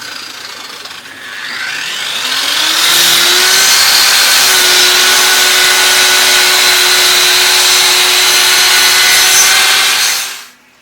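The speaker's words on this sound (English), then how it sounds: "I'm using the circular saw blade here, and what we're doing is cutting slivers." An angle grinder fitted with a circular saw blade whines up and then grinds steadily into a tree stump, cutting slivers of wood for several seconds, loud and close, before spinning down.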